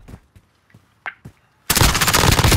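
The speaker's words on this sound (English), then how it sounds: "Just fucking shooting a gun." Video game gunfire in a duo battle royale match: a few scattered single shots and faint clicks, then a sudden loud, sustained burst of rapid automatic fire close by.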